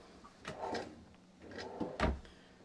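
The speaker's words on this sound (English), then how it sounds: "And then 3 nice big drawers here." Big storage drawers in a 2026 Heritage Glen 325RL RV slide open and shut, giving a few soft, close rolling thumps and knocks, with the last bump the loudest, in a quiet interior.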